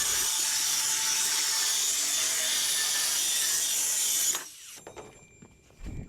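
A circular saw set at zero degrees roars steadily through a large wooden board for several seconds, bright and harsh, then cuts off and winds down into quiet rattles.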